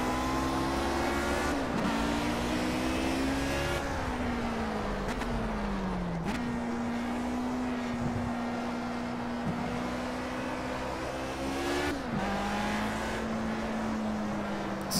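Lotus 49 with Cosworth engine in the racing game Project Cars, a loud, continuous high-pitched engine whine that climbs through the revs, drops sharply at each gear change, and holds steady between shifts.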